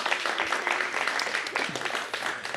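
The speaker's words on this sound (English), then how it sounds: "Give a nice round of applause for Anita" An audience at a community gathering claps for a poet, a short, busy burst of applause with a few louder claps standing out.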